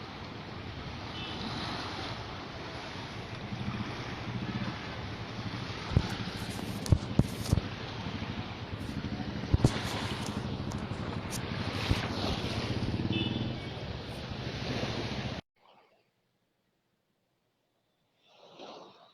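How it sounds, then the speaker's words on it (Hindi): High waves on the Narmada river at Tilwara Ghat, rushing and churning water with strong wind buffeting the microphone and a few sharp knocks, loud and continuous before cutting to near silence. "ये देखिए कितनी ऊंची लहरें उठ रही हैं, 1 से 2 फीट तक की तो लहरें उठ रही हैं।"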